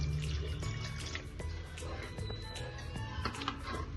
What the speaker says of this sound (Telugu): ముక్కలు మునిగే వరకు వాటర్ పోద్దామండి